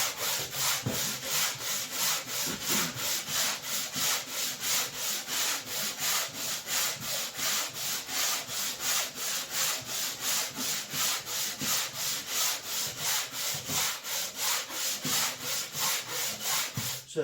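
Dried drywall joint compound sanded by hand over screw-covered wallboard, a continuous rhythmic scraping hiss of steady back-and-forth strokes, close and loud for the whole stretch with no talking.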